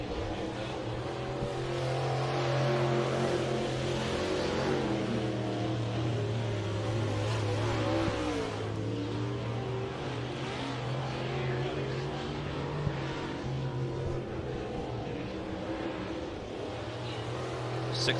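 Lucas Oil late model race cars running on track at Farmer City, a continuous loud engine roar with rising and falling revs from cars at a distance.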